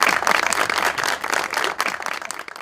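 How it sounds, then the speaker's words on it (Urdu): Studio audience applause, a dense burst of many hands clapping at close range, loud and continuous, with a brief dip near the end. "بہت تالیاں جی آپ کی والدہ کے لیے."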